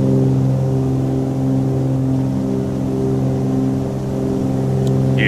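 Twin piston engines of a Cessna 310 roaring steadily at takeoff power in Microsoft Flight Simulator 2020, a loud continuous drone with strong low harmonics and no talk.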